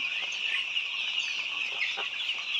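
White layer chickens cluck continuously in a dense, close chorus on a poultry farm, with steady overlapping calls and no talking.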